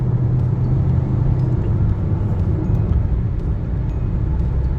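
Engine of a 2021 Honda HR-V EX drones under load on an uphill climb, a steady loud rumble heard from inside the cabin, with no talk over it.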